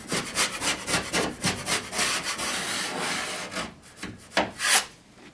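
A drywall knife pressed hard against a first coat of joint compound, scraping it down in a run of close, rough rasping strokes with a gritty rhythm, a few sharper scrapes near the end.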